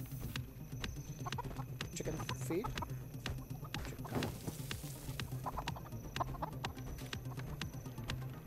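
Chickens cluck repeatedly in an MMO video game, short fowl calls scattered across busy in-game ambience and layered effects at a moderate, steady level.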